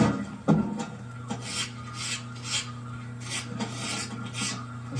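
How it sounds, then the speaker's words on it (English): Brass brush scrubbing carbon out of the rotor pockets of a Mazda RX7 13B rotary engine during a rebuild: rapid, close scratchy strokes in short repeated bursts over a low steady hum, with no talking. "Now you'll need to use a brass brush to get into the pockets."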